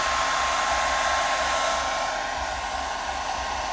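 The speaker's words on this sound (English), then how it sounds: "you have to use the old lady's hair dryer." Close, loud rush of a household hair dryer blowing continuously, an even airy hiss with a thin motor whine that eases slightly toward the end, with no voices.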